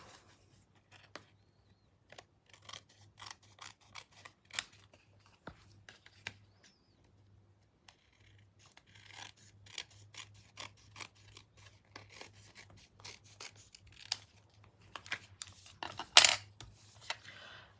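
Quiet snipping and rustling of scissors cutting, with scattered irregular clicks and rasps close by over a faint low hum.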